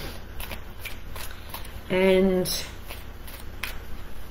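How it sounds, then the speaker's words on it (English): Archangel Power Tarot cards being shuffled indoors, a soft papery riffle running faintly under a quiet room with a brief louder burst midway, a few words spoken alongside. "I'm going to actually start by shuffling the Archangel Power Tarot"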